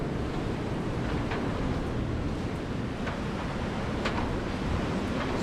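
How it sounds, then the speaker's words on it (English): Wind blows steadily outside, a constant broad rushing noise at moderate level with faint occasional clicks and no speech. "Do you hear that wind out there?"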